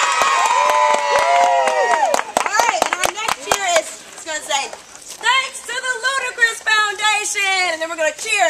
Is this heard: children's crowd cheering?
yes